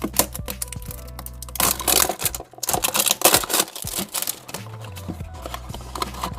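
Crinkling, tearing and rustling as a vinyl bobblehead toy package is opened, with sharp irregular crackles and snaps of plastic and cardboard close to the microphone, busiest in the middle, and no talking.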